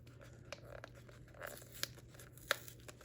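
A strong sticker seal peeling and tearing off a sports card box, heard as close crinkly ripping with a few sharp crackling snaps over a low hum.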